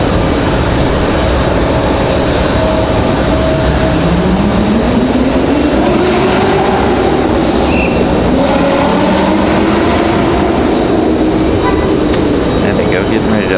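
An American Airlines Boeing 777 at Raleigh-Durham airport, heard as a loud, continuous jet roar filling the ramp, with slow rising and falling engine whines drifting through it.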